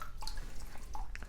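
Water dripping and splashing while the bottom of a Fluval 307 canister filter container is rinsed over a bucket, with a few distinct close drips and trickles over a low background wash.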